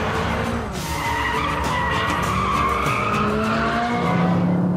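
Tuned BMW M5 from PP Performance skidding on a race track in Abu Dhabi, with continuous loud tire squeal and engine roar throughout, heard up close and without talk.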